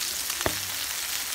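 Ground beef sizzles steadily as it browns in a pan, with a soft knock of a utensil near the middle and no talk.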